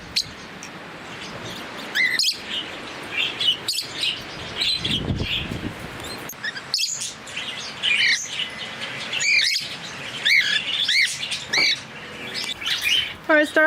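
Pet budgies and Bourke's parrots in an outdoor aviary, chirping and tweeting in bright repeated bursts with occasional squawks and soft cooing, close and fairly loud, with a little speech in the background.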